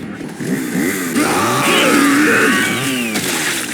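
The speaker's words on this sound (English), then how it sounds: "Chainsaw." A chainsaw in the Resident Evil 4 video game revs up loud and close, its rough buzzing engine rising and wavering in pitch as it holds a sustained snarl, mixed with other game noise.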